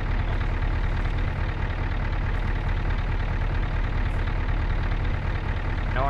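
A vehicle engine idles steadily in the military shooter game Arma 3, a constant low rumble running unbroken for several seconds with no voices over it.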